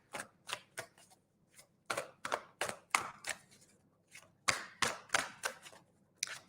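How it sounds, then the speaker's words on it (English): Tarot cards being shuffled by hand, a series of quick crisp riffling bursts in irregular clusters with brief pauses between, close and clear with no talking. "Giving them a good shuffle."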